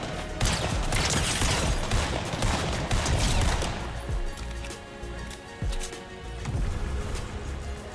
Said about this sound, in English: the scoped assault rifle just definitely coming through